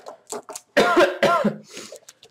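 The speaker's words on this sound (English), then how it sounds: "I cough a lot" One person coughs close by in a few rough, throaty bursts, tapering into short, softer rasps.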